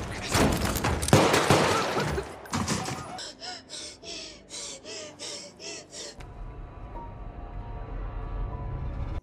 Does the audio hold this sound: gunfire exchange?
yes